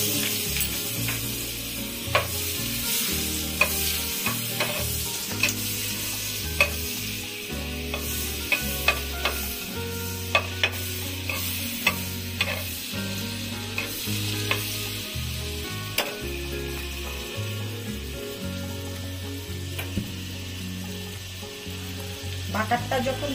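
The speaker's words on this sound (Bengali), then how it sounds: "এটার মধ্যে আমি এখন বেরেস্তাটা ভাজবো, যার জন্য তেল দিচ্ছি" Onions fry for beresta in oil with a cube of butter, a steady close sizzle broken by repeated sharp clinks and scrapes of stirring throughout.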